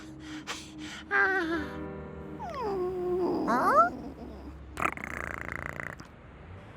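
A cartoon cat meows several times in exaggerated, sliding cries, with comic sound effects and a sharp burst near the end. There is no speech over it.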